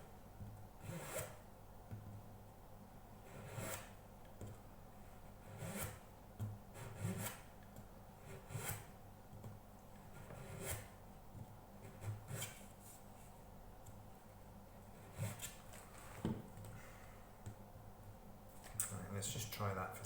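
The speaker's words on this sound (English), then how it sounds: "I can probably use a nut slot file." A nut slot file rasps at the nut slots of a dulcimer, sounding as quiet, intermittent short strokes with soft rubbing between them, close and low in level.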